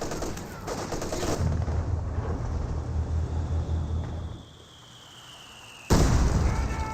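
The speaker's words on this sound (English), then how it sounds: "That's a regular barrage." An artillery barrage in Company of Heroes 2, with dense, rolling blasts and crackling gunfire lasting several seconds, dipping briefly, then one more loud impact.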